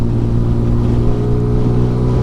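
A Sinnis Apache SMR 125 motorcycle engine runs at full throttle around 9,000 rpm in fourth gear, a loud steady high-revving drone with wind rush throughout.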